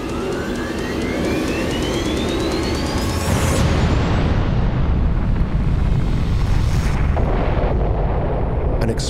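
Atomic bomb detonated over Hiroshima with a force of nearly 15,000 tons of TNT: a loud, sustained roaring rumble fills the whole stretch, with a thin rising whine early on and no pauses.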